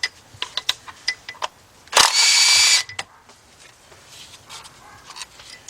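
A power tool buzzes in one dense burst of just under a second while removing bolts from a Jeep Grand Cherokee water pump, with scattered clicks and metal taps before and after.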